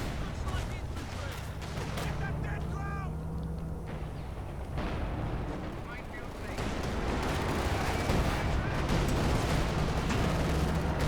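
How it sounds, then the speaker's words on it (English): Artillery cover falling during a Company of Heroes 2 multiplayer battle, heard as dense, rumbling bursts of shelling and gunfire that grow louder in the second half, with a commentator talking throughout. "Do have the new nerfed artillery cover coming in."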